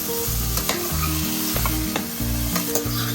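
Chopped carrots and garlic sizzle steadily in a hot pan for a homemade beef curry, with repeated scraping and knocking of a utensil as the mixture is stirred, loud and close with no talking.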